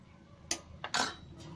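A metal lid set onto a cooking pot of spinach tamarind curry, giving two or three quick clinks and a short ringing clatter, close by in a quiet kitchen.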